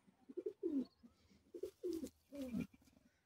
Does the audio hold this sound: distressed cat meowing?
no